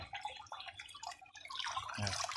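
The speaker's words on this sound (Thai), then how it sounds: "แล้วก็ดูน้ำตกไหลพุ่งออกมา แบบนี้ครับ" Water from a DIY garden waterfall driven by a 12V 20W DC pump pours and splashes in a steady stream, fairly close and continuous, with no talk over it.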